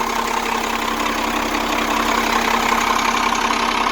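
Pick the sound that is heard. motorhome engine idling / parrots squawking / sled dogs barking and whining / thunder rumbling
motorhome engine idling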